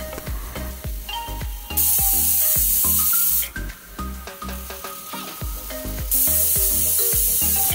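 Loud, steady hiss of steam escaping a pressure cooker after cooking rajma, in two long bursts, heard over rhythmic background music with a thumping beat.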